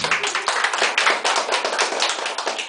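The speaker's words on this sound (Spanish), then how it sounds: "Aplauso para la primera parejita." Guests at a family birthday and Christmas party clap for a couple, a brisk, uneven patter of hand claps from a small group, close and lively throughout.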